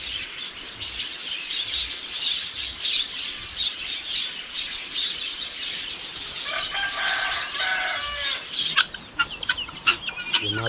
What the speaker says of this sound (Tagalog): May mga manok tayo dito.